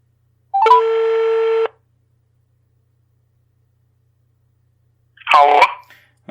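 A telephone number being dialed: a single long tone, then a short burst of tones some seconds later, both loud and clear against silence.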